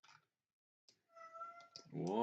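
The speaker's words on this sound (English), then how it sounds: "What are you meowing about," A cat meows indoors, a short, quiet mew followed by a longer rising and falling meow that ends in a louder drawn-out call, close by and with no talk.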